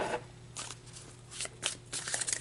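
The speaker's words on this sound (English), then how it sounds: "let's pull some more cards about this" Tarot cards being shuffled by hand, soft papery riffles and flicks in short irregular bursts, close and quiet with no talking.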